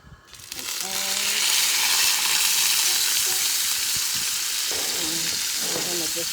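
Loud, steady sizzle of marinated steak frying in a hot pan, rising sharply as the meat goes in and holding a bright hiss throughout.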